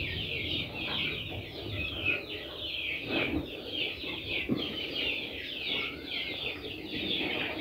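Young layer chickens on a rooftop give a steady stream of soft, high peeping and clucking calls that continue throughout, moderately close, with no talking.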